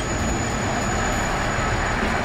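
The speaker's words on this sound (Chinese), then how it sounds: "而我们从这个地方搭乘最有名的电车哦" A famous local electric train in Aomori, Japan, running. A loud, steady rumble of wheels and carriage noise with a faint high whine holds throughout.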